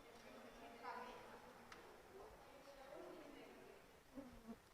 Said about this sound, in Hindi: 2-3 दिन की प्रॉब्लम है ये मक्खी वाली,